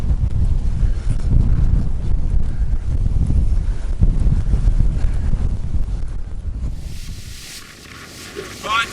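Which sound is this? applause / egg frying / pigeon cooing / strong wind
strong wind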